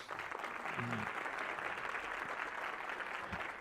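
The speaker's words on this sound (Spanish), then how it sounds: "Los invito a que recibamos con un fuerte aplauso al invitado estrella de esta noche, que es Alberto Salcedo Ramos." An audience applauds to welcome the star guest at an evening talk about cinema, soft steady clapping heard from a distance with a few faint voices underneath.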